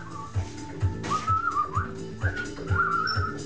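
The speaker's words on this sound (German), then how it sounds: "Ja, eine Pfeife. Das ist eine Pfeife." A whistle blown in a series of short sliding tones, rising and falling in a lively melodic pattern, close and clear, with brief low thumps beneath.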